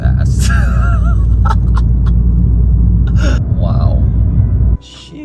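A loud Audi RS3 accelerating hard, its engine roaring steadily for several seconds before cutting off abruptly, with a voice briefly heard over it.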